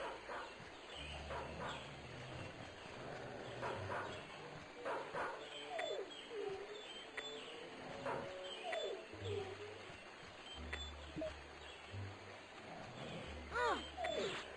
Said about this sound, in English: Those dogs are attacking that poor bird.